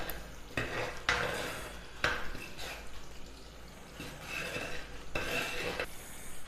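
A spoon scrapes and stirs around a pan as cardamom and dry ginger powder are mixed into banana payasam, with steady close scraping and clinks repeating over several seconds.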